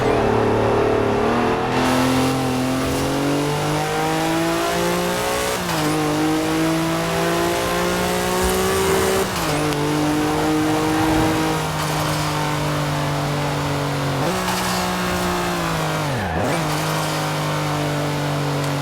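A Chevrolet ZR2 in Forza Horizon 4 accelerates hard down a straightaway, its engine climbing steadily through several gear shifts with brief dips between them, loud and continuous without any talk.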